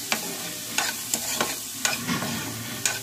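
Chopped tomato and other ingredients are stirred and cooked together in a pan for a cucumber dish, giving a steady frying sizzle with a few distinct spoon taps against the pan, close and alone.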